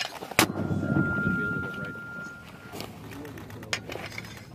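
A mortar fires on a Marine Corps range at Twentynine Palms, one sharp loud blast early and a second near the end, while Marines shout commands and talk around the shots.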